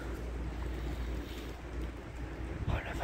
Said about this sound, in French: on entend le vent dans les pins